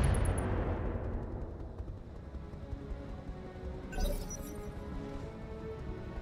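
Long-range weapons fire in the RogueTech mech game, with heavy rumbling booms and crashing impacts rolling continuously and a sharper blast near the middle.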